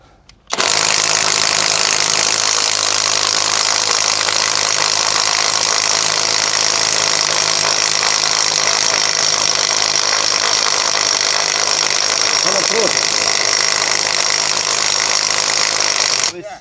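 A Grosser 780 Nm impact wrench runs loud and steady, close up, as one long continuous whir with no pauses for most of the stretch, then cuts off at the end.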